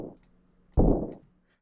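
Single booming stomp-explosion hit in a drill beat, a short, loud low-end burst that swells and decays within half a second, preceded by a faint ticking hi-hat.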